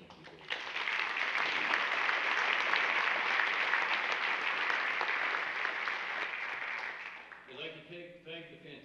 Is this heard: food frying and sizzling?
no